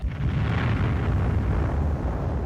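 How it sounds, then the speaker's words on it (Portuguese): An 88 mm gun on a Nashorn tank destroyer fires, giving a loud, sustained roaring blast with heavy low rumble that fills the whole moment without a break. "o primeiro projétil rugiu para fora do longo cano do"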